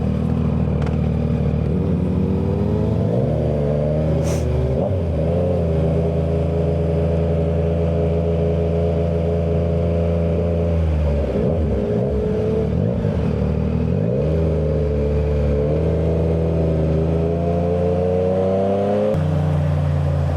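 A Harley-Davidson Street Glide motorcycle rides along the road with a loud, sustained engine drone heard up close, rising and falling with speed changes and a brief drop in the middle.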